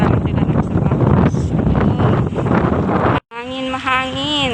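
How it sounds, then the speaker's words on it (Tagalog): Strong wind buffets the microphone outdoors in a loud, continuous roar, then cuts out briefly before a voice speaks over quieter wind. "Mahangin."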